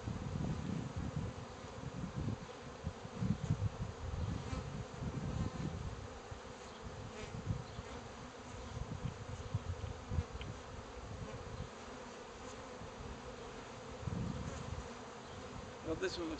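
Honey bees buzz around a hive frame being inspected, a dense, close, continuous drone that swells and fades with occasional louder bursts as the frame is handled.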